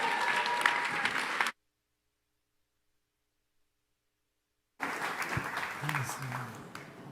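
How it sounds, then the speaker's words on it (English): A crowd at a Climate Week panel applauds as speakers come onto the stage, continuous dense clapping at a moderate level, cut by a few seconds of total silence before the applause resumes. "Give them a big round of applause."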